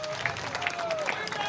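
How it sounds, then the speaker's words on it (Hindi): Applause for Yatendra at a hunger strike gathering, a short burst of crowd clapping lasting about a second and a half, moderately distant and fairly soft. "एक बार यतेंद्र जी के लिए ताली बजा दो"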